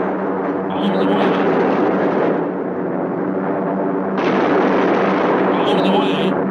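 Bombs dropped from a WWII B-17 or B-24 bomber on a 1944 raid detonate in a sustained, rumbling roar of blasts that swells and fades over several seconds, loud and dense, with voices underneath.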